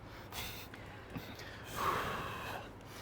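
Someone blows on hot cooked broccoli to cool it: soft, breathy puffs in a quiet room, a brief one early and a longer, stronger blow in the middle.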